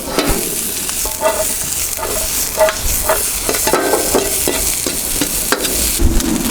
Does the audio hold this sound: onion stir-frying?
yes